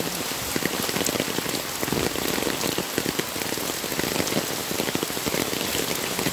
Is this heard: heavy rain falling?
yes